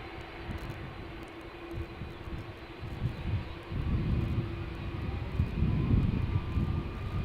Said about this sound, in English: Listen to the CF6s. That's Delta A330.